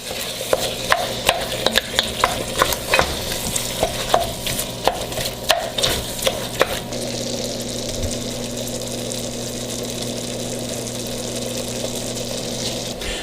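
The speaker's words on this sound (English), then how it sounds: "Now I'm just going to mix it all up before we add our seasoning to it." A spoon stirs cheeseburger soup ingredients with onion in a pot, giving a run of quick scraping and sloshing clicks for several seconds before it settles into a steady low simmering hiss.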